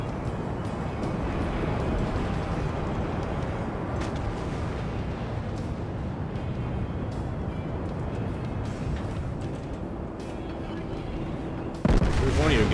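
The main guns of the Amagi battleship in World of Warships fire amid a steady rumble of sea and engine noise, ending in one loud, close boom at the end.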